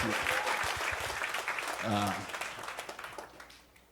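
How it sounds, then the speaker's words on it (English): Audience applause at a church gathering of pastors and ministers, a dense wash of clapping that swells and fades over several seconds while a voice speaks over it. "Let's clap for the courage of this great woman of God."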